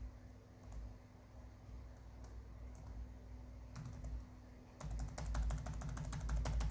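Keys tapped on the built-in keyboard of an HP EliteBook 8770w laptop under repair, faint scattered clicks over a steady hum at first, then a quicker, louder burst of typing near the end.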